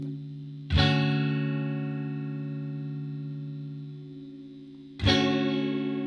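Sustained synthesizer chord with detune set to deep mode, struck twice about four seconds apart, each attack sharp and then a thick, slowly fading drone carrying rich harmonics and a chorus-like shimmer.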